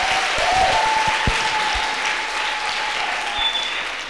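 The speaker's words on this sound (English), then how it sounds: "You have given Jesus a few hand claps." A church congregation claps for Jesus, a dense burst of many hands applauding steadily for several seconds, loud and close, with a few thumps underneath.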